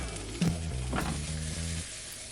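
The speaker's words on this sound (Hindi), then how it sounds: "अब हम डालेंगे टमाटर और हरी मिर्च। इसे भी 1 से 2 मिनट के लिए पका लेंगे।" Tomatoes and green chilies sizzle in a hot pan over a medium flame, a steady close frying hiss with a few soft knocks and stirring scrapes early on, no voices.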